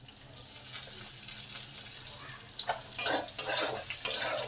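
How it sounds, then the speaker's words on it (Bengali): Garlic is tipped into hot oil already frying chilli, cumin and bay leaf, giving a soft steady sizzle with a few sharper spatters and scrapes of a spoon against the pan partway through. "এই সময় রসুনটাকে দিয়ে দিলাম"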